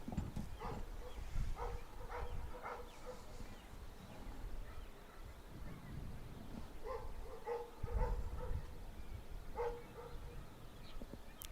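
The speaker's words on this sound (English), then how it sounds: "every time the dog barks, the sound bar jumps" A dog barking in the distance near a middle school baseball game, repeated faint barks in short bursts with long gaps, heard under ambient outdoor noise.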